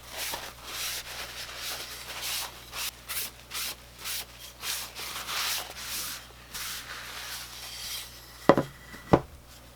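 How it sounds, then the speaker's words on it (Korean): A wooden kalimba body is hand-sanded with a rhythmic series of close, rasping strokes about once a second, then two sharp knocks at the end. "이렇게 이제 어느 정도 샌딩 작업이 마무리되면"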